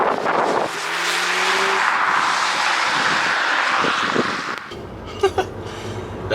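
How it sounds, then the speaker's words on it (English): An Audi S3 of 300 horsepower launching under launch control from a 4,000 rpm hold: a loud, close engine roar with wind rush swells for about four seconds, then cuts away to quieter road noise and a couple of brief knocks. "that's launch control"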